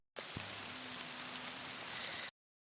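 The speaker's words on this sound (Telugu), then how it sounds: "వర్షం కూడా పెద్దగా వచ్చేటట్టు అనిపిస్తలేదు, కానీ మళ్ళీ వచ్చేటట్టు ఉంది" Rain falls steadily in an open grazing field with Gir cows, a dense close hiss with a soft thump early on, and it cuts off abruptly after about two seconds.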